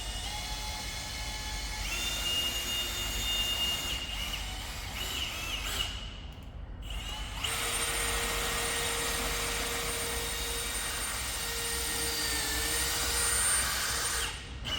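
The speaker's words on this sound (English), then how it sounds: "I did manage to get the drill to go all the way through the counterweight." A drill grinds steadily through a steel crane counterweight for a long stretch, a harsh whining drone that pauses briefly midway before resuming under constant load.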